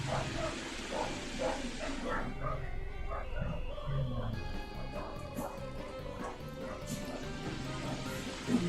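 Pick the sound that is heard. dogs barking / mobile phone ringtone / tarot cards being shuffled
dogs barking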